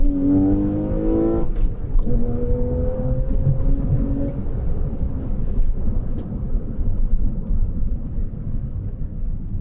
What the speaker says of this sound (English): Let's go to Sport Plus to see how auto rev matches.